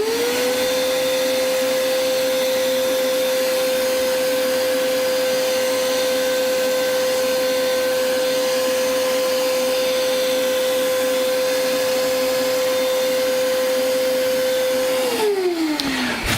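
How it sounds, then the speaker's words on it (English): Vacuum cleaner sucking up lead dust during a quick cleanup, a loud steady motor drone with a high whine held throughout, then powering off and spinning down at the end. "Let's do a quick vacuum."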